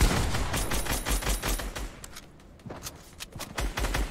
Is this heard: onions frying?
no